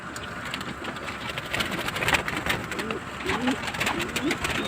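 A homing pigeon coos at its loft in repeated soft, throaty rolling calls, fairly close, over a steady bed of outdoor noise and other birds.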